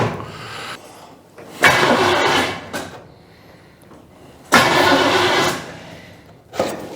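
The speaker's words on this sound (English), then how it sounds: "As soon as I turn the key on, it starts cranking." A GMC engine cranks in two loud bursts of starter grinding separated by quiet pauses, with a short third burst starting at the end; it never catches.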